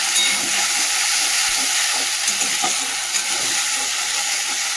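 Radhuni seeds and ginger paste frying in hot oil give a steady, close, loud sizzling hiss that runs unbroken throughout, with faint stirring beneath and no voices.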